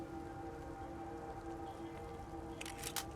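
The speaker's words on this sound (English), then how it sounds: "Back out in this lovely rain that we have." Steady rain in the video game Flesh Reborn hisses continuously with a low droning hum beneath, joined near the end by a few brief brighter splashes.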